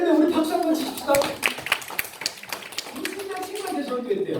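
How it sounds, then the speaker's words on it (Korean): Congregation clapping at a church dedication service, a burst of quick claps from a small gathering rising under a man's continuous speech and fading as he keeps talking. "우리 박수 한번 칩시다"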